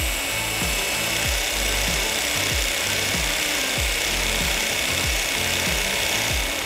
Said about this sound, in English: today, automatic power scraper is used more often